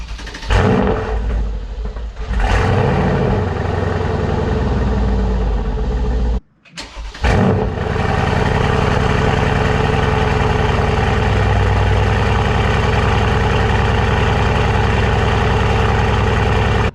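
A Mercedes-AMG C63 S with its mufflers deleted cold-starts, cranking with a couple of short bursts, catching, briefly dropping out, then settling into a loud, raspy, steady idle through the unmuffled exhaust.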